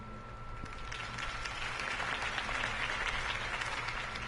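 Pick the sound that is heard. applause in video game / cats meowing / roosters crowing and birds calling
applause in video game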